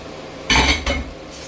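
Onion tipped into a hot pan of beef chow mein stir-fry, giving a loud clattering sizzle with metal-on-pan scraping for about half a second, a second shorter clank, then a fading hiss.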